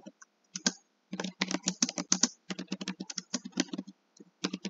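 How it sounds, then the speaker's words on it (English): Rapid bursts of typing on a computer keyboard, close and fairly loud, with irregular clusters of keystrokes separated by short pauses, no talking. "So we're going to type out baby, this is Kiki Palmer."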